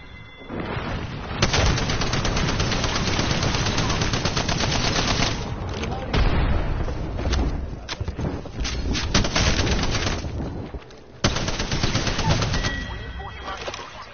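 Sustained automatic gunfire from Apex Legends ranked play, dense bursts of rapid shots running nearly continuously with brief pauses, loud and close, with a voice briefly talking over it.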